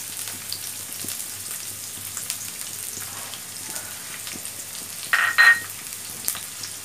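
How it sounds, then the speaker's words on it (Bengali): Chopped onion sizzles steadily in hot oil in a pan, a continuous close crackling fry with a couple of louder spits near the end and no talking. "পরিমাণ মতো তেল দিব, এবার পেঁয়াজ কুচি দিয়ে দিব।"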